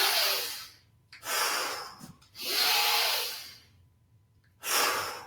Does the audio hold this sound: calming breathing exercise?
yes